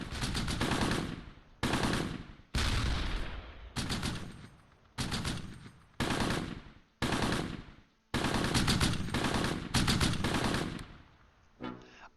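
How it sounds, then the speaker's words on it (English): Bursts of machine-gun and rifle fire from a World War II battle near Caen in the strategy game Close Combat, coming in about ten loud, dense volleys separated by brief silences, with no voices. "I didn't even know where these shots came from"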